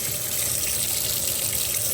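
Steady tap water runs close and loud over eggs being washed in a kitchen sink, a continuous splashing gush with no pauses.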